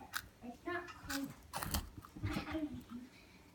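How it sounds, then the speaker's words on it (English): An 8-month-old baby with four teeth bites and chews Cheetos, producing a string of small, close crunches and mouth sounds interspersed with an adult talking. "Using your 4 teeth to bite that, buddy?"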